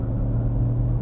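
A BMW M440i Coupé six-cylinder engine rumbles steadily from inside the car on a German highway, a loud, even low drone during a brief moment of downshifting, with no talking.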